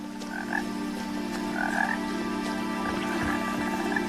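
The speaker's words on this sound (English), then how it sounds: "Where are all these frogs? I hear them." Frogs croak repeatedly in a video game, What Remains of Edith Finch, in short, chirping bursts over a steady low hum, several calls overlapping at moderate distance.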